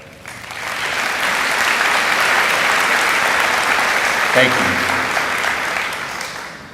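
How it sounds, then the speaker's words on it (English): A graduation audience at a high school ceremony breaks into a sustained round of applause, broad and steady, rising quickly and tapering at the end, with a brief spoken thanks near the close. "Receive your round of applause."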